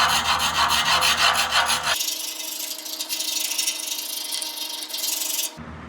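Steady abrasive scraping across rusty metal on a laser-cleaned Toyota frame, close and loud, one continuous rasping stroke that shifts tone partway through.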